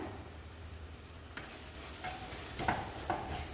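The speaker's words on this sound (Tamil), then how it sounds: "மசாலா சேர்த்துட்டு லைட்டாக வதங்கட்டும்" Roasted ground masala sautéing with onion and tomato for a crab gravy, a soft hiss broken by a few sharp spoon scrapes and clinks toward the end.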